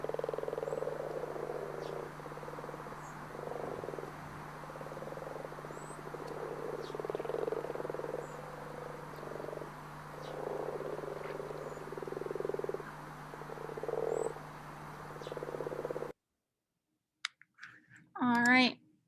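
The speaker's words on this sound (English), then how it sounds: "In a few more weeks, the tadpole has grown into a frog." A frog croaks in a steady rhythmic series of short pulses over a constant low hum, with faint clicks scattered through, ending in a brief burst of a different call after a pause.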